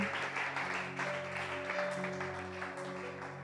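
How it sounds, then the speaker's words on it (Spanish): Sustained applause from a crowd at a church service, steady and dense, with a held musical tone and low hum running underneath throughout. "un aplauso"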